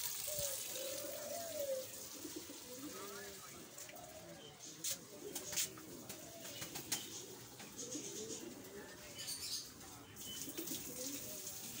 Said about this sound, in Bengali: অস্ট্রেলিয়ার ঘুঘু।